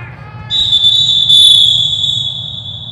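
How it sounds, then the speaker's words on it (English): A referee's final whistle ends a Major League Lacrosse game between the San Diego Seals and Dallas Rattlers, a loud sustained shrill blast that rises and holds for over two seconds over a rumbling arena crowd. "Final whistle."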